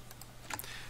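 A few quiet, quick keystrokes on a computer keyboard as a command is typed into a Linux terminal, close and brief against a faint hum.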